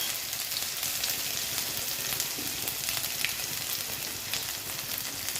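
Ginger garlic paste sizzles and fries in hot oil in a pan while making a special masala, a steady dense crackling hiss running without pause, close and fairly loud, with no voices.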